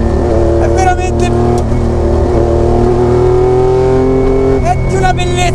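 Engine of a Lancia Stratos HF rally car breathing through its intake at a steady idle or light throttle, a loud continuous drone with harmonic whine, while someone speaks over it.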